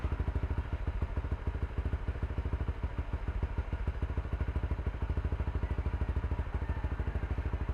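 Honda Supra GTR150 motorcycle idling through an MVR1 power pipe exhaust, heard from about two meters: a loud, steady rapid pulsing putter with even rhythm throughout, no talking.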